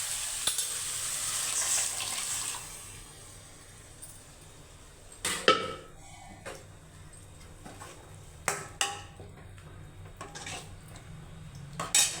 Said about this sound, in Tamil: இப்போ பருப்பு பருப்பு ஊற்றிக்கிறோம்